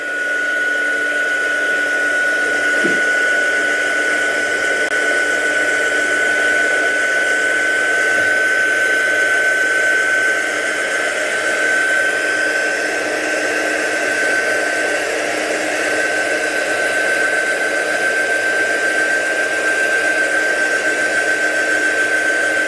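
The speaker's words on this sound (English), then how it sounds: "Give that a quick blast with a heat gun," A heat gun blows steadily and loudly to dry freshly applied paint, a continuous airy roar with a faint high whine that holds unbroken throughout.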